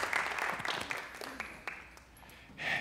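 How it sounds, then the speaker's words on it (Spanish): Scattered audience applause at a cultural press conference in Puerto Rico, fairly faint and uneven, fading mid-way before a short louder burst of clapping near the end. "Un aplauso, por favor."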